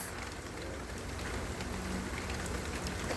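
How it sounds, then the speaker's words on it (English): Steady rainfall pattering on surfaces outdoors, a dense even hiss of drops at moderate distance with no voices. "I like the rain. Pretty calming."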